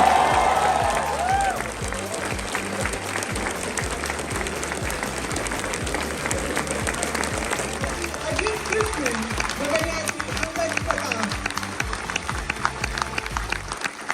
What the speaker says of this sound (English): with a huge round of applause, let's welcome him